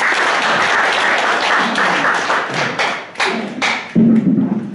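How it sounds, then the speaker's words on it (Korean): An audience at a lecture on Dasan Jeong Yak-yong claps to welcome the speaker, a loud, close burst of applause with heavier thumping claps that thins out toward the end. "박수로 환영해 주시기 바랍니다."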